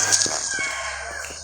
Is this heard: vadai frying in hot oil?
no